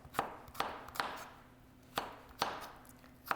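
Knife chopping ingredients for Thai chicken satay on a cutting board, six sharp, close, fairly quiet strikes spaced irregularly in an otherwise still kitchen.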